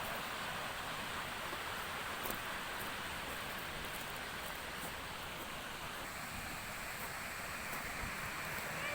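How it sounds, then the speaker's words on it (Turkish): A continuous, even rush of water from Karapınar waterfall at the source of the Gediz River, heard from some distance and fairly quiet, with no pauses or voices. "şelale akmaya devam ediyor su."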